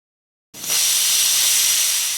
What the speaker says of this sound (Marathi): आता आपण ह्याला एक शिटी काढून घेऊया